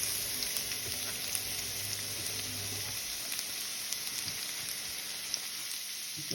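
Garlic cloves frying in a hot frying pan, giving a continuous even sizzle and crackle at moderate closeness with no talk.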